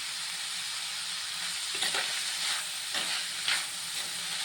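Sliced bitter gourd fries in oil in a pan on a low flame, giving a steady close sizzle and hiss, with a few louder crackling bursts as the pieces are stirred.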